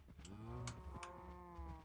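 Cow mooing in the video game Minecraft, a pair of drawn-out, harmonic moos close together that fill nearly the whole moment, with no talking over them.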